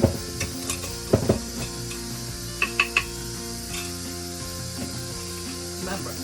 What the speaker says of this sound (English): Remember, I'm not frying all that chicken.